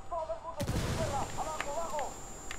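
A frag grenade goes off in the Ghost Recon Wildlands video game, giving one sharp broadband burst near the start. Smaller thuds and chirpy game sound effects follow, with a voice speaking through them.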